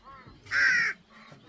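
A single loud, harsh caw from a large crow near a fog-covered mountain temple, close by, followed by quieter bird sounds in a calm setting.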